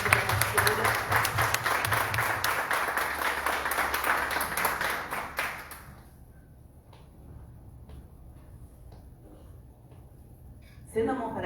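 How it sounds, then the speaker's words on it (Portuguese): Church congregation applauding during a service, dense clapping that holds steady for several seconds before stopping abruptly, leaving quiet room sound and then a brief burst of noise at the end. "Uma salva de palmas para Jesus"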